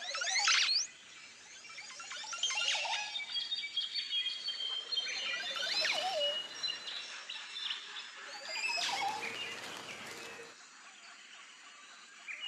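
A male Caribbean bird gives a bubbling, gurgling display song while bowing, rapid chirps and warbles in several close, fairly loud bursts, with brief lulls between phrases.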